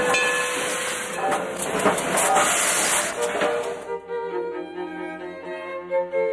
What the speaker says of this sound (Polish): Lokomotywa. Train.